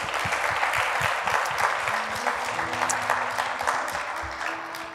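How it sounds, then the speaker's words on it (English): A church congregation at a Sunday service claps steadily and enthusiastically for several seconds, the applause loud and continuous with no one talking. "Can we give a hand clap of praise to the Lord this morning?"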